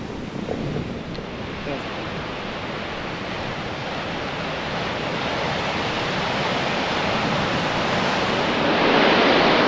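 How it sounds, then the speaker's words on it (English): Big ocean waves breaking at high tide off the Dingle Peninsula coast in Ireland, a continuous loud roar of churning surf with wind, swelling slightly louder toward the end. "Watching the sea here, just magnificent. There's some big waves coming through."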